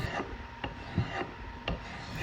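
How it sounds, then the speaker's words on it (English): A carbide scraper rasps across the wood of a 1980s table in short, regular strokes, about four or five scrapes in quick succession, close and moderately loud. "keep even pressure across the blade so that you don't accidentally gouge the wood"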